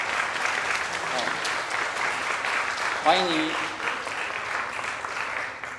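A church congregation applauding to welcome a newcomer at a Sunday worship service, sustained clapping from a crowd heard through the whole stretch while a voice speaks over it.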